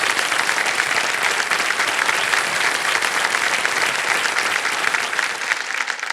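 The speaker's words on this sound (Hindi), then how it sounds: "तालियां बज जाए इनके लिए।" A studio audience on the quiz show KBC claps for a contestant, dense sustained applause that stays loud and steady with a slight fade at the end.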